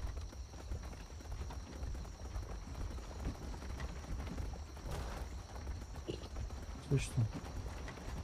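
Animal hooves in the online pirate survival game Atlas knock in a steady clip-clop as the creature bounces in place instead of walking, with someone talking over it and a couple of louder thumps near the end.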